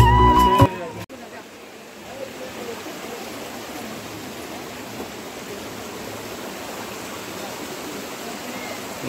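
Water flows at Bamni Falls waterfall in Ajodhya Pahar as a steady broadband rushing wash, following a short burst of speech and clatter at the start, with faint voices in the background.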